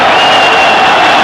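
A football stadium crowd at a 1989-90 Liga match between Real Madrid and Osasuna protests a penalty decision, a loud, sustained roar of massed voices and whistling, with no pause across the moment.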